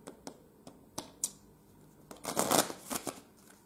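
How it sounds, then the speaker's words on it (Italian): A deck of playing cards being shuffled by hand, a few crisp separate snaps followed by a riffling burst and several more short flicks, close and clear with no talking. "Mescoliamo ancora"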